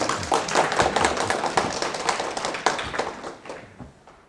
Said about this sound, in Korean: 박수 한번 쳐주십시오, 여러분.